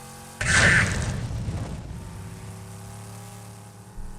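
A fantasy game effect of a flame chuffing from a mechanical engine, a sudden loud whooshing burst that fades over about a second into a low rumbling drone, with a small thump near the end.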